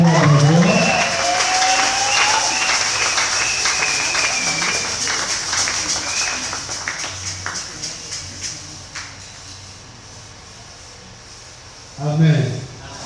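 A church congregation applauds and cheers loudly at first, the clapping fading gradually to a low murmur before a short burst of voices near the end.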